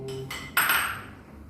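A spoon stirs coconut milk tea with turmeric in a metal pot, giving a few clinks and scrapes against the side with one brighter knock partway through, close and clear with no talk.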